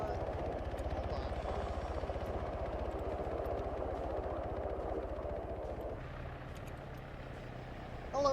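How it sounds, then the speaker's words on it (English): A helicopter in the Arma 3 military game thrums steadily and loudly for about six seconds, easing slightly quieter afterward, with a soft burst near the end and no talking over it. "Sorry, I can't hear you over the helicopter."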